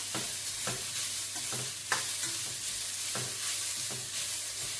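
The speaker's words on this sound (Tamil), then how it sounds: "ஒரு 5 நிமிஷம் இந்த தேங்காய் பூ வறுத்து எடுத்துக்கொள்ளுவோம்" Grated coconut frying in oil in a pan, a continuous soft sizzle with repeated scraping strokes of a spoon stirring at a steady rhythm, close by and with no voices.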